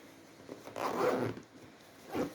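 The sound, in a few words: zipper closing on swim bag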